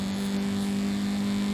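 Video game car engine from Forza Horizon 5 on a drag strip, a steady, close droning hum holding one even pitch throughout the brief stretch.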